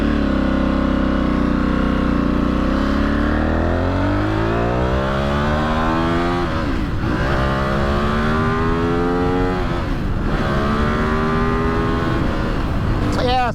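A Suzuki SXV550 motorcycle engine revs loudly and close by on its first ride after a no-start fix, the pitch sweeping up and down through repeated throttle blips with a rough, twitchy rise off idle.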